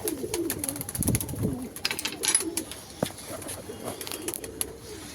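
Pigeons in a home pigeon loft give low, throaty coos that overlap near and loud, with light rustling, small clicks and faint chirps in between.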